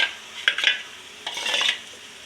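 A spoon stirs paneer gravy masala in a pan, two bursts of scraping and gentle sizzle, close and fairly loud with no talk.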